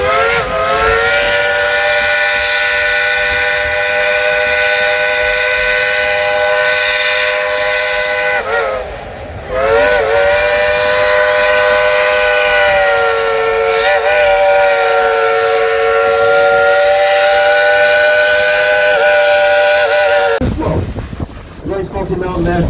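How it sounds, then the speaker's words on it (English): The whistle of a Baldwin steam locomotive on the Klondike Katie train at Dollywood blows loud and close, a long sustained chordal tone that breaks briefly midway and then resumes before stopping. "would y'all like to hear some music on that Baldwin locomotive whistle?"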